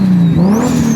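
A car engine running with a deep exhaust note, checked for misfiring while idling; a loud, steady low drone with a slight rise in pitch and a faint whine above, close and continuous.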